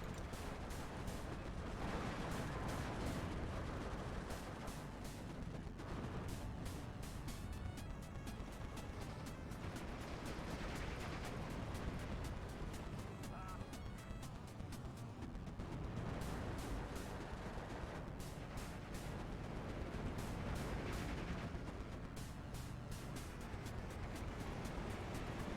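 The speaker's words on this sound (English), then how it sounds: "Mortar still being annoying" Mortar and artillery fire in Steel Division II, a dense stream of overlapping booms and crashing impacts that continues for the whole stretch, with sharp repeated bursts over a constant rumbling din and no voices.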